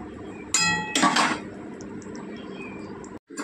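A metal lid is set onto a pot of fish cooking for a spicy bata fish curry, giving two close, bright clanks in quick succession with a ringing tail, then quiet kitchen background.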